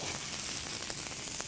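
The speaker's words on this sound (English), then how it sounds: "you want that sizzle" Firecracker bratwursts sizzle steadily on a small hot indoor grill, a dense, close hiss that runs the whole time with a few faint pops and no voices.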